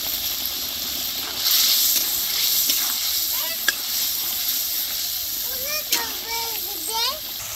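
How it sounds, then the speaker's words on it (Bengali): Fried potatoes sauté with spices for a catfish curry, giving a steady close sizzle with stirring scrapes, while children's voices chatter intermittently in the background. "আলু আমি হালকা করে কষিয়ে নিছি"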